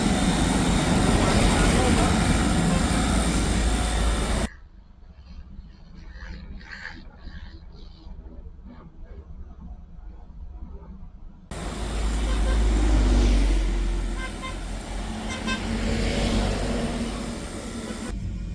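A portable pressure washer for washing a car runs dry with no water, giving a loud, steady motor whine that drops to a quieter stretch midway before returning at full strength.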